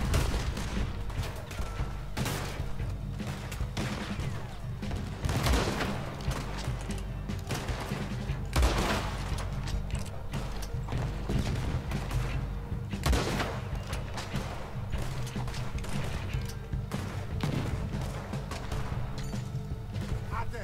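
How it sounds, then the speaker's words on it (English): Continuous bursts of gunfire and heavy cannon booms crackle through a dense, noisy battle in Red Dead Redemption 2, with explosions punctuating the steady barrage. "There's another cannon up ahead on our left."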